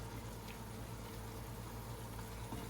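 Wine sauce reducing in a pan simmers quietly with a low, steady bubbling burble and faint soft pops, close and calm.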